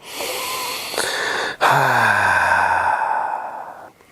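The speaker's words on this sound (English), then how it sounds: "Take a nice big inhale through your nose and exhale out your mouth." A deep exhale through the mouth at the close of a yoga flow, a long, close, breathy sigh with a brief voiced tone, lasting several seconds before fading.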